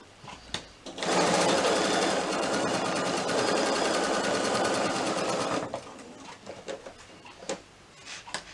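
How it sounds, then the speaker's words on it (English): A sewing machine runs a steady, fast stitch for about four and a half seconds, basting along the edge of a small batik fabric wallet, close and loud, with faint handling clicks before and after. "So you can use quite a big stitch for this, because it's just basically basting it in place. I'm stitching quite close to the edge."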